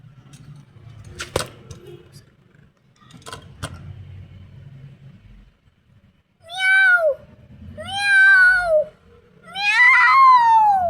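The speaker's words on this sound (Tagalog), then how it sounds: "Pusa." A cat meows three times in a row, loud and close, each call rising and falling, after a few soft knocks and low background rumble.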